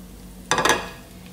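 Meat hits hot sesame oil with garlic, ginger and chili, giving a short, sharp sizzling burst that quickly fades back to a quiet background.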